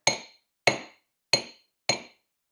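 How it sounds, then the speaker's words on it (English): Four evenly spaced hammer strikes on a silver ring held on a rotating mandrel, each a sharp metallic tap with a short ringing decay, close and clear with no talking. "rotating this mandrel around just slowly, so I'm getting like 1 strike in on each space"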